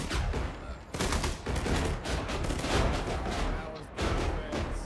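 An artillery fire mission lands in ArmA 3 (S.O.G. Prairie Fire) near an enemy trench, giving a dense, rolling barrage of heavy blasts and crackling gunfire. It stays loud and sustained, with faint voices underneath.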